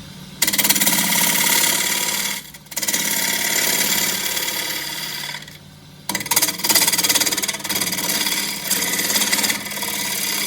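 A half round gouge cuts an ash core spinning on a wood lathe, giving a loud, steady buzzing chatter close by that drops away twice in brief pauses before resuming, with no talk.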